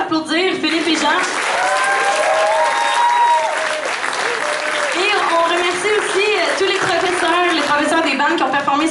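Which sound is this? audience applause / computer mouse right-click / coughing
audience applause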